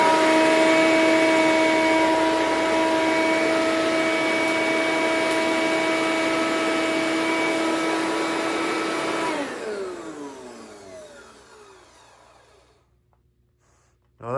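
A loud, steady Eureka The Boss 10-amp upright vacuum cleaner motor with a whining hum runs for several seconds, then powers down and winds to a stop, leaving near silence.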